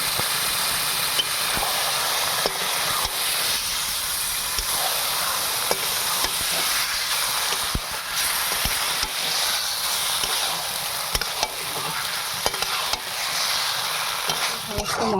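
Boiled taro stems stir-fried with spice paste in a pan, scraped by a spatula with a steady sizzle and scattered clicks throughout, close and continuous with no voices.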